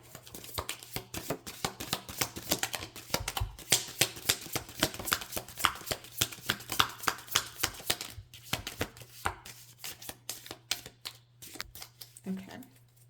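Oracle cards being shuffled by hand, a rapid run of papery flicks and riffles with a faint hum beneath, while a voice talks at times over the shuffling.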